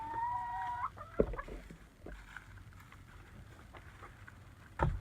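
Unheated hens in cold Wisconsin weather cluck in short, scattered bursts with a brief higher call near the start, set against low rumbling background noise.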